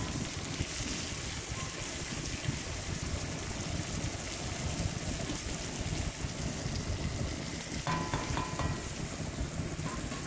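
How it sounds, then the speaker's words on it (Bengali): Elephant foot yam frying with chopped tomato and ground coriander, cumin, turmeric, chili and garam masala gives a quiet, continuous sizzle with soft stirring scrapes, close but faint, with no talk. "ওলের সঙ্গে ভালো করে মশলাটা কষিয়ে নিচ্ছি"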